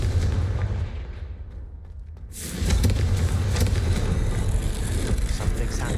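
In the Hogwarts Legacy video game, the Confringo fire spell goes off as a loud booming blast. A quieter rumbling lead-in gives way to a sudden explosive burst that keeps roaring close up for several seconds.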